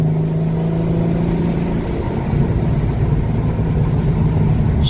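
A turbocharged car engine revs hard under boost around 4,000 RPM, a loud, steady, close-up roar that holds throughout with a slight surge partway through.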